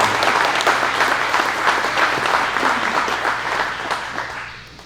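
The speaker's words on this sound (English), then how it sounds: "A big round of applause for all of our leaders" An audience at a ten-year celebration event applauds its leaders Terry and Stan, a loud, dense, sustained round of clapping from a large crowd that gradually thins and fades toward the end.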